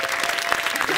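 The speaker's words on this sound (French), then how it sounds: "Applaudissez-le, c'est beau." A live show audience applauds loudly, a dense burst of many hands clapping at once, close and sustained throughout.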